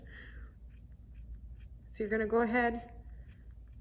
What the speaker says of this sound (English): I don't have the best scissors. Fabric scissors would be ideal in this situation.